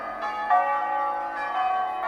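Church bells peal inside a bell tower, close and loud, with several overlapping strikes whose long ringing tones blend into a continuous shimmering wash.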